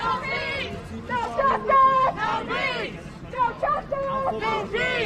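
A protest crowd gathered in a Brooklyn Park, Minnesota street during civil unrest, rhythmic group chanting in waves from nearby voices over a murmuring background of many people.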